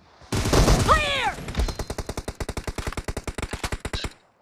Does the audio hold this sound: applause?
no